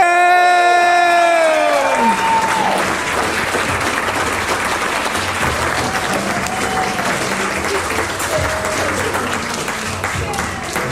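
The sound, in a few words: wedding guests applauding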